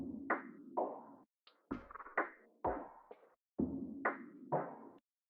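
A dry trumpet sample loop with no effects plays quietly as a series of short, punchy brass stabs in a choppy rhythm before stopping abruptly.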